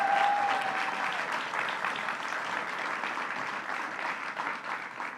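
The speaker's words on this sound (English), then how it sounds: "let's give Leslie Schultz a round of applause for her leadership" Sustained applause from an audience at a Brooklyn community event, steady clapping filling the room at an even level for several seconds with no talk over it.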